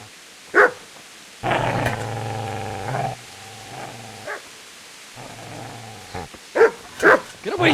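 In a medieval video game, a dog snarls and growls in sustained rumbling bursts, broken by a few short sharp barks, close and loud.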